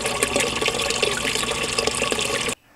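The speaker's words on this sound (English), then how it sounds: "As the water levels goes down, this valve will open up and release the water." Water from a float valve pours steadily into a hydroponic reservoir for a Dutch bucket system, a continuous splashing rush close by that cuts off abruptly near the end.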